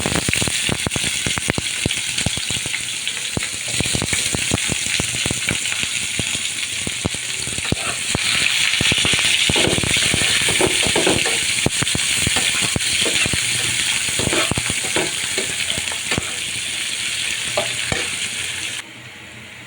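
Onions frying in hot oil with bay leaves, a loud continuous sizzle under repeated clinks and scrapes of a spoon stirring in the pan, close up with no talking.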